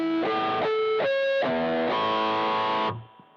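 Heavily distorted electric guitar notes with high gain, several picked in a steady sequence, each sustaining with dense, buzzing harmonics before being cut off abruptly, loud and close with no talk.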